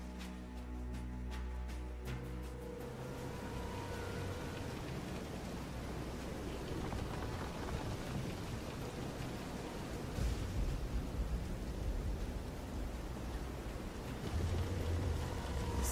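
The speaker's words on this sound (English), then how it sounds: "This is some storm." Stormy sea in the Visions of Mana game, with steady roaring wind, rain and crashing waves against a pitching ship, loud and continuous throughout, swelling in low rumble near the end.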